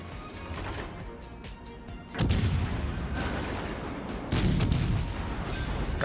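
Warship guns fire in the naval battle game World of Warships Legends. Two heavy booming salvos land about two seconds apart over a dense rumbling battle din, with no talking.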